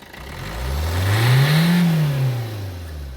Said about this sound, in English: Reed's just about to jump in the car, fire it up and give it a rev